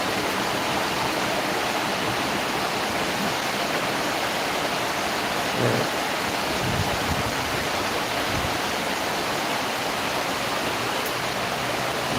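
Heavy, continuous rain pours down along a highway, giving a dense, even roar with a faint low rumble of passing traffic partway through.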